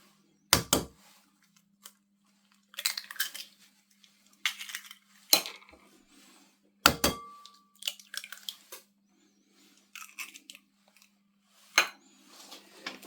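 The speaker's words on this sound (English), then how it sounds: "And then we'll grab our eggs and put those in there as well." Eggs being cracked and tipped into a mixing bowl for a cake, a series of sharp knocks and clinks followed by rattling spills, spaced irregularly against a quiet background.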